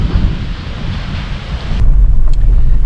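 Strong wind gusts roar across a tent campground at Sica Hollow State Park in South Dakota, a steady rushing buffet that swells louder partway through, with no voices.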